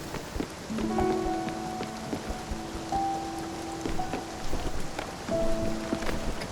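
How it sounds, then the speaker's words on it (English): Steady rain falls at a corporate location in a video game, a dense even hiss of drops with faint tonal music notes layered over it, no talking. "Of course it rains at the corporate location."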